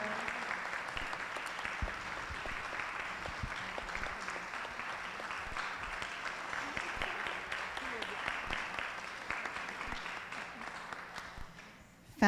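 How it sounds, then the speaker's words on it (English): Audience at a university symposium applauding the Sisters of Notre Dame de Namur, a sustained, even roomful of clapping that fades near the end. "Can we give a round of applause to the sisters who have given us so much here?"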